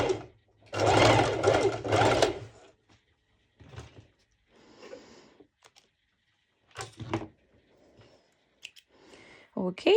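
A sewing machine runs a straight stitch on fabric in a loud, close burst of fast whirring lasting about two seconds. Quiet talking and small handling sounds follow.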